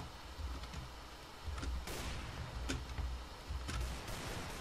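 Gunshots ring out in Counter-Strike: Global Offensive, several sharp cracks spaced irregularly over a few seconds, moderately loud against a low background rumble, with no talking.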